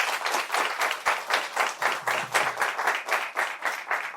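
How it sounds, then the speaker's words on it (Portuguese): An audience at a career talk show claps in a quick, steady rhythm, the claps pulsing evenly and fairly close for the whole stretch, with no talking. "Uma salva de palmas para o nosso querido Lucas, membro Jânio."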